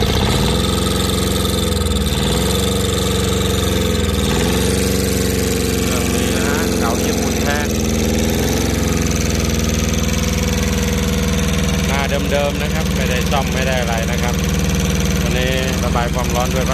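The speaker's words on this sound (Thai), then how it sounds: "ลองสตาร์ทดูลองดับเครื่องดูก่อน" An old Japanese Yanmar two-cylinder diesel engine, in good condition and adapted for farm use, cranks and settles into a loud, steady, throbbing idle for the whole stretch, with faint voices heard at times.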